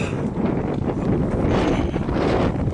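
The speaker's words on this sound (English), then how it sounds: "It's nice and breezy." Steady wind buffets the microphone near the summit of Stonewall Peak in California, a broad continuous rushing roar with no pauses, loud and close throughout.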